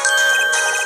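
Electronic ringing tone of a communication transmitter in the Nintendo DS game Apollo Justice: Ace Attorney, a loud, steady, high-pitched buzzing ring lasting under a second, with no talking.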